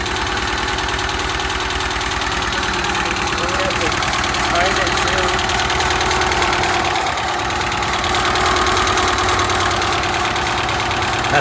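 A freshly rebuilt JDM Honda D15B engine with forged connecting rods runs steadily at idle soon after its first start, a loud constant mid-pitched hum with faint ticking, heard up close with no pause.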